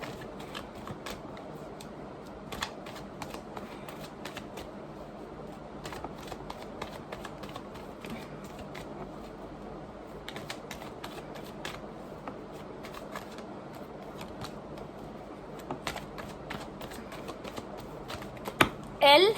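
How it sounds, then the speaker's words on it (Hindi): Tarot cards are shuffled by hand in quiet, rapid bursts of soft riffling and flicking, with occasional light taps as cards drop out of the deck, then a short louder knock at the end. "ओ माय गॉड कार्ड्स बहुत ज़्यादा गिर रहे हैं।"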